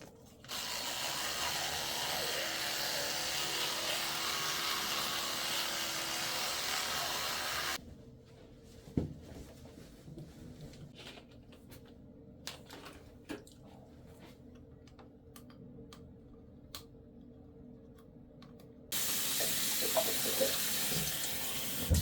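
A bathroom tap runs steadily into the sink during tooth brushing, a loud continuous wash that stops for several seconds of small clicks and scrapes, then gushes on again near the end.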